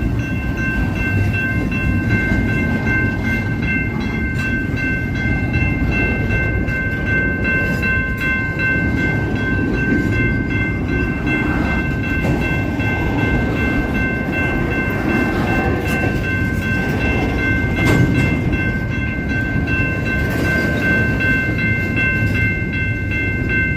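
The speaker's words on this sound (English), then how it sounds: "Should I hop the train?" A train rumbles past slowly and steadily, with continuous wheel and carriage noise, faint squeals and clanks, loud and close throughout.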